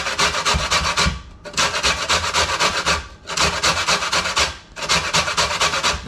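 Half a lemon is zested on a regular box grater, giving loud, close, rhythmic scraping in four long strokes with brief gaps between them and no voices.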